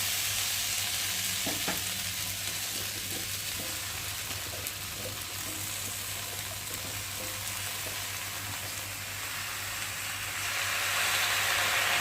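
Malabar spinach fries in a pan for a chachchari, a steady broad sizzle with faint scraping stirs, growing a little louder toward the end.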